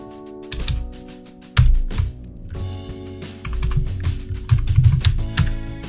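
Irregular bursts of computer-keyboard typing while script is entered on a Linux system, clicks clustering in quick runs with short pauses, close and fairly loud over a faint steady hum.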